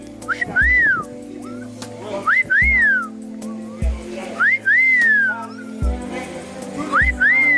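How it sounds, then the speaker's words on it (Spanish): A person whistles short rising-and-falling tones in several repeated bursts, clear and fairly close, over a steady background hum with occasional low thumps. "Chifla, chifla ahí."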